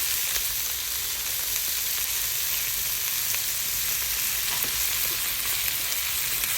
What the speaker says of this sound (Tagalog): Ginisa ko lang pala to ang chicken.